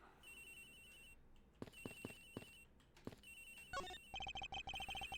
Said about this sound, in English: His phone is ringing from somewhere, sir.